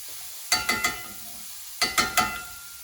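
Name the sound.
stirring minced garlic and onions frying in a pan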